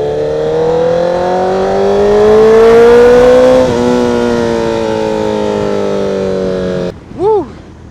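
A car exhaust revs loudly and steadily, its pitch climbing then easing back as the engine holds high revs, ending with a short rising blip after a brief drop.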